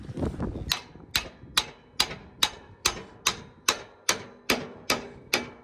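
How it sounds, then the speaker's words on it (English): Steady, evenly spaced hammer blows ring out about twice a second, a dozen sharp metallic strikes up close after some brief rustling. "Grab a hammer,"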